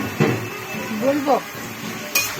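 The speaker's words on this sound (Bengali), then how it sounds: "এবারে মাংসটা কষিয়ে নিচ্ছি।" Meat being stirred and cooked down in a home kitchen pan, with a few scraping clatters of a spoon against the metal, a soft clink, and a faint low sizzle underneath.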